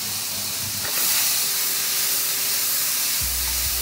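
Mushrooms cook on a very hot plate as their water steams off, making a continuous even hiss that swells slightly after the first second, with no voices.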